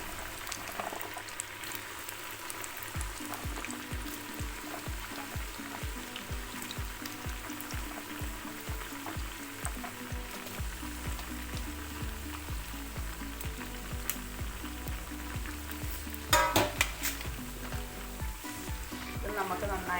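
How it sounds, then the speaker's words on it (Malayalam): Raw banana slices fry in hot oil for sharkara varatti, giving a steady, bubbling sizzle that holds throughout, with occasional stirring clinks and a brief louder splash-like burst near the end. "ഇത് നമുക്ക് നന്നായിട്ട് ഫ്രൈ ചെയ്തെടുക്കാം"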